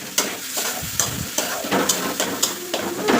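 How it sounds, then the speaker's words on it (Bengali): Ground spices and potatoes frying in oil in a pan, a steady close sizzle broken by repeated sharp scrapes and clinks of a spoon stirring against the metal. "মশলাগুলো দিয়ে দিলাম এখন একটু ভেজে নেব সাথে সাথে আলুগুলোও ভেজে নেব একসাথে"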